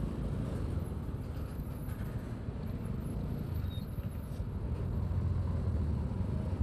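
Dense, steady road traffic in a congested stretch of Cicurug, Sukabumi, with a continuous low rumble of idling and creeping cars, buses and trucks close by and no clear talk.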